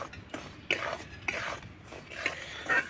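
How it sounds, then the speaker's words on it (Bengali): Semolina stirred and dry-roasted in a kadai over low heat, a spoon scraping the pan in repeated close strokes with no talking. "সুজিটাকে একটু কড়াইয়ের মধ্যে দিয়ে নাড়াচাড়া করে একটু ভেজে নেব 2 মিনিটের মতো"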